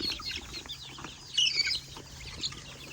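Chickens on a rural Thai farm where cattle graze, giving faint scattered clucks and a brief flutter of wings against soft outdoor background noise.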